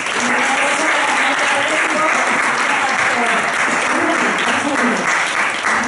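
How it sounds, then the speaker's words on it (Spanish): Loud, sustained applause from a crowd at a press conference presenting the new season of the NEOX program Homo Zapping, steady throughout with voices audible beneath the clapping. "Un aplauso para Olga Huéstigo"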